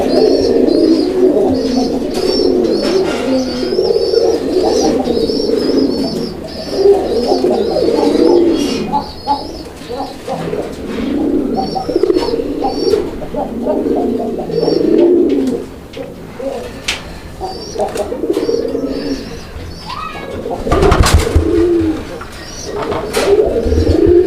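Domestic pigeons, a Raj-Golla pair kept for sale, coo steadily and close by in soft rhythmic rolling phrases, with a few chirps and rustles mixed in and no one talking.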